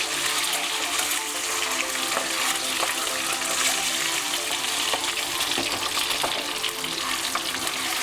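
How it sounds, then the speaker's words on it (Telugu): Eggs fry in hot oil in a pan for a prawn and drumstick curry, giving a dense, even sizzle with occasional crackles and no voices. "గుడ్లు ఫ్రై అయినాయండి"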